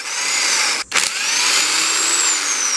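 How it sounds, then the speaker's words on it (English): A power tool drives at two 12mm bolts holding the motor on a power tilt memory steering column, a loud, close, steady whirring drone that briefly cuts out and restarts before running on. "Now here I've got 2 12mm bolts to remove to get this motor off."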